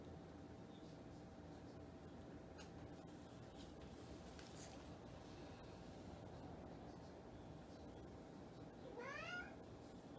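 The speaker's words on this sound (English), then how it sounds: "And of course we all know that's my cat." A house cat gives a faint, brief meow near the end over a steady hum of room noise and soft background sounds.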